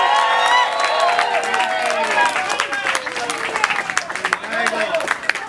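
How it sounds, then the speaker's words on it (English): A family gathering breaks into applause and cheering, with lively voices and laughter riding over scattered clapping that grows choppier and more broken toward the end. "can we just have a louder round of applause for them?"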